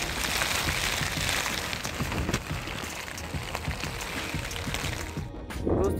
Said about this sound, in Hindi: सुबह से लगातार बारिश हो रही है